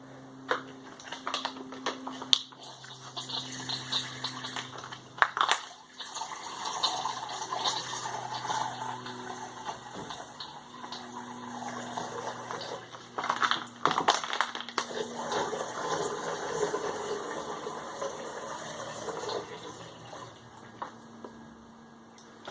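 Water trickling and flowing through a Sawyer Squeeze water filter, a soft, uneven liquid gurgle with crackly squeezing bursts and brief pauses, close up and alone.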